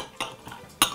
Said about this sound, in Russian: Ножом разрываю это произведение искусства.